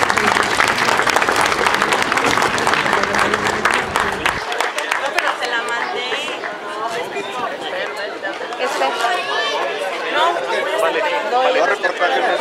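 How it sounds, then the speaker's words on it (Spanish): A crowd applauds at a groundbreaking ceremony for a municipal market renovation. Strong clapping comes first, then the crowd breaks into loud chatter and talk while scattered claps continue. "Les pido, le demos un fuerte aplauso."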